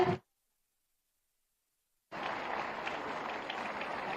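Sustained applause from a large audience at a chief minister's National Youth Day event in Lucknow, a dense steady wash of clapping that starts abruptly after a short pause and carries on alone.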